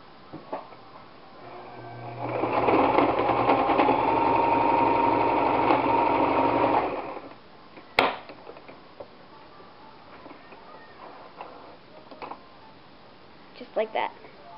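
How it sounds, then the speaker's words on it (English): A sewing machine whirs steadily for several seconds as it stitches a fabric doll headband, then stops, followed by a few scattered clicks and taps. "Or sew it the same way using your sewing machine."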